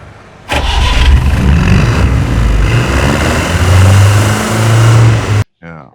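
A vintage Ambassador car engine, shown in a film, starts up and revs loudly, holding a steady, dense motor roar for about five seconds before it cuts off abruptly, with a voice faintly audible under the engine.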